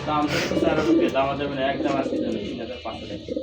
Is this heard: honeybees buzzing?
no